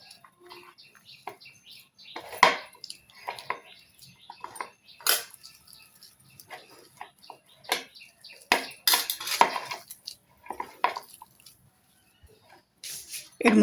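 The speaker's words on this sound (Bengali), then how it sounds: "এগুলোকে আমি এখন একটু এরকমভাবে হাত দিয়ে ম্যাশ করে নেবো।" Boiled raw bananas and potato, cooled after pressure cooking, mashed by hand in a bowl, giving scattered soft squelches and sticky slaps, with occasional light clinks of the dish between brief quiet gaps.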